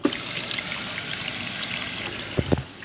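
Water poured out into a kitchen sink, a soft trickling splash with a couple of louder gurgling spurts near the end, close and without talk.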